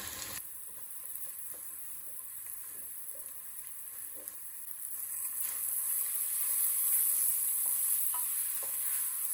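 Pepper, carrot, potato and garlic sautéing in a pot, a steady hiss of sizzling that swells louder midway, with occasional soft stirring knocks, close and unbroken by speech.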